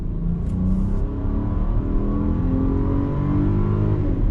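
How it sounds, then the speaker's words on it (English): A 2021 VW Atlas SUV with an 8-speed automatic and 4Motion accelerates on throttle, its engine a steady, close low rumble that builds evenly over a few seconds without a pause. "But let's see how acceleration goes."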